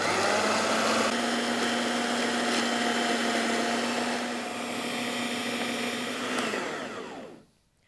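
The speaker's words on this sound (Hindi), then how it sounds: "अब इन सब चीज़ों को हमने पीसना है।" A kitchen grinder whirs loudly and steadily as it grinds coriander, mint and green chillies, a constant high motor drone that runs for several seconds before winding down and stopping.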